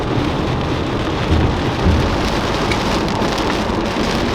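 Heavy rain drums steadily on a car during a road trip toward Austin, Texas, a loud constant wash with low rumbles of thunder rolling through midway.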